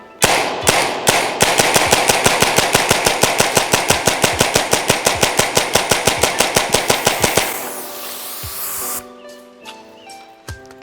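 A Tippmann CQB HPA airsoft rifle, modeled on a Mark 18, fires BBs into drywall. A long, rapid automatic burst of sharp, loud cracks comes at a fast even rhythm, then stops abruptly, followed by a brief hiss and a few lighter clicks.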